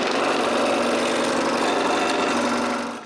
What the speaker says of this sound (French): j'ai juste à utiliser la scie à chantourner pour les libérer.